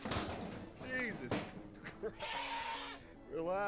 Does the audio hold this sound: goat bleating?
yes